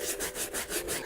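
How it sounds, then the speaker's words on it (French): A brush scrubs the sole of a dirty Nike Air Force One sneaker into a lather, giving loud, steady back-and-forth rubbing strokes in a regular rhythm, close up with no voices. "tu prends ta semelle et on fait mousser"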